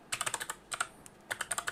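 Someone types on a computer keyboard during Windows 11 setup. Quick bursts of close, crisp keystrokes come in two runs separated by a short pause.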